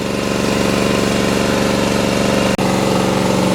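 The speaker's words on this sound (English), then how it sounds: "The spooling trailer is powered by a little 10 horsepower motor." A small 10 horsepower engine running a hydraulic pump on a hose spooling trailer drones steadily and loudly at close range, with one abrupt brief dropout near the end before the engine hum resumes.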